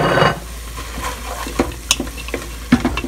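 Chopped carrots and celery are tipped into a hot oiled pan and stirred, giving a steady sizzle with scraping and clinking strokes from the spoon, loud and close with no voices.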